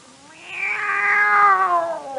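A cat on a 1952 Cinderella 78 RPM record lets out one long, rising and falling caterwauling meow, loud and close, with no voices over it.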